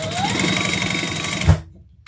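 A sewing machine bastes a leather strap closed for a messenger bag, running in a steady fast stitching rhythm for about a second and a half before stopping with a thump, close and clear.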